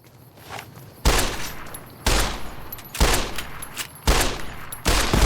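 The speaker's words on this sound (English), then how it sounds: "I will shoot him with the pistol then" Five loud, evenly spaced pistol shots in Fallout: New Vegas, each a sharp crack roughly a second apart that decays quickly, over faint background with no talk.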